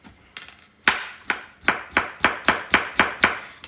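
A knife chops garlic on a cutting board in quick, evenly spaced strokes, about ten sharp close taps with nothing else around.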